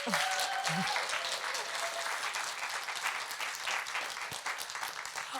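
Audience applause at a library stage poetry event in Exeter continues steadily, with a few voices audible under the clapping.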